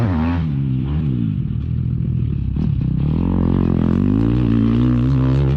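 A two-stroke motocross bike engine drones close by, pitch dipping and rising as it decelerates under engine braking, a rough two-stroke buzz throughout.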